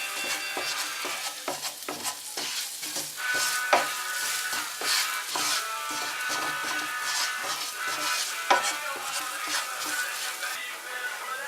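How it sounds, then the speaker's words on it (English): Beef vindaloo with turmeric being stirred and fried in a pan: a steady, close sizzle broken by repeated scraping strokes of the stirring utensil, with no talking. "Give this a good stir and fry for another 2 minutes."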